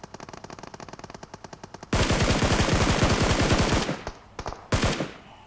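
Gunfire in a video game shooter aimed at bots: a dense, loud automatic burst of rapid shots runs for about two seconds after quieter rhythmic firing, then breaks into a few short separate bursts.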